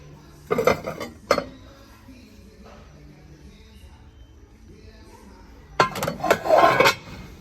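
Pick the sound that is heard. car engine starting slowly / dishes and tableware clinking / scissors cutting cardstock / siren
dishes and tableware clinking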